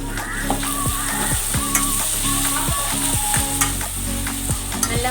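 Ingredients for prawn biryani frying in a pan, a steady close sizzle under repeated scraping spatula strokes in a quick regular rhythm, loud and continuous.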